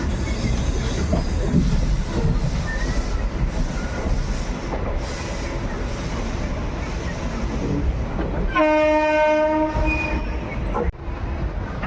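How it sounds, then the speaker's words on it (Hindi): Two trains, one with ICF coaches and one with LHB coaches, run alongside each other with a steady rumble and rhythmic clatter of wheels, and a loud multi-tone horn sounds near the end. "दोनों ट्रेनें पैरेलल एक दूसरे को क्रॉस करती हुई"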